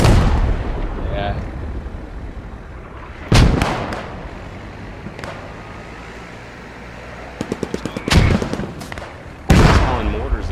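Mortar artillery fire in the game Post Scriptum: several heavy booms land several seconds apart, one cluster with rapid cracks, over a rumbling battlefield background.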